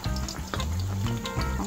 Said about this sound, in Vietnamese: Tôm hùm đã ướp xong rồi nè, bây giờ mình chiên thôi ha.